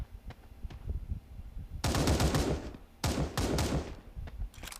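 Bursts of automatic gunfire from the video game Sausage Man, loud close rattling volleys separated by single sharp shots, with no talking over them.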